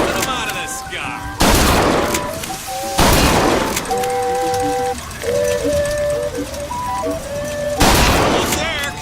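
Gunfire from a newly acquired weapon in BioShock Infinite, with three loud bursts of shots spread across the clip, interleaved with musical game tones and talk.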